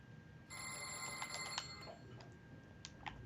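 Vigilance alarm in the Train Sim World 3 game (Mediterranean line) ringing as a steady electronic bell tone with repeating pulses, moderately loud over a low cab rumble, with no talking.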